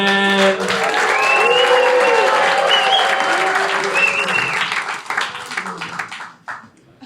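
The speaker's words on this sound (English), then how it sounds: "Clap those hands" A comedy club audience applauds as a stand-up comedian takes the stage, with sustained loud clapping and cheering that fades near the end while a voice speaks over it.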